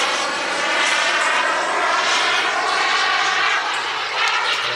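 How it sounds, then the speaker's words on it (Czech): Jet aircraft making a low pass with landing gear extended at the Czech Heaven airfield in Ivančice during an air show, a loud, sustained engine roar holding steady throughout. "Ano, pilot nám provádí minimálku."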